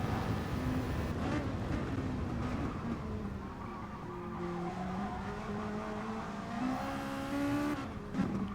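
Race car engines on the Kyoto track in Gran Turismo Sport, a close car's engine droning and shifting pitch through the esses, with tire squeal and brief gear changes, loud and continuous with no speech.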